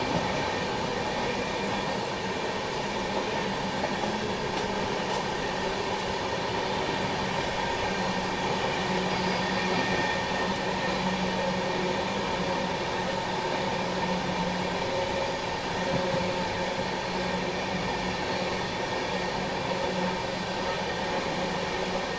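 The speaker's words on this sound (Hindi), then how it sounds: "वो महानगरी एक्सप्रेस ही आ रही है बनारस से मुंबई को जाने वाली।" The Mahanagari Express, a passenger train running from Varanasi to Mumbai, rolls past close by: a constant heavy rumble and clatter of wagons with faint wheel squeals, steady and unbroken for over twenty seconds with no voices.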